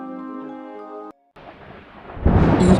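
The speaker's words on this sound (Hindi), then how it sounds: "एक रात भयंकर तूफान शुरू हो गया। बिजली चमक रही थी, तेज हवाएं चल रही थीं" A violent night thunderstorm with lightning and strong winds follows a short musical tone: a pause, then a rumbling, windy roar that swells loud near the end.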